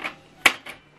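A few sharp plastic clicks, one louder snap in the middle, as a Canon TS9155 printer paper cassette is pushed shut; close and otherwise quiet.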